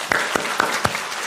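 A lecture audience at Shenzhen Art Museum claps for Dunhuang Academy workers, with a few sharp, distinct hand claps at a steady pace over a light room hiss, fairly close and with no voices.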